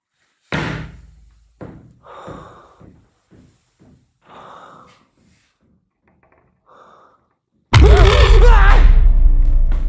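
A series of short knocks and thuds, followed by a loud, sustained metallic slam of a barred gate with clanging and rattling that rings on.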